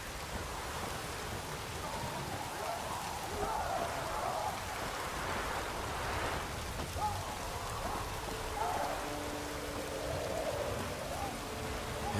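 Steady rain falls in The Witcher 3, an even, dense patter of drops hissing on surfaces throughout, with faint tonal sounds in the background and no talking.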